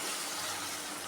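Cooking water from boiled chana dal is poured into a pot of pumpkin kootu, giving a steady, even splashing stream that stays constant throughout, with no talking.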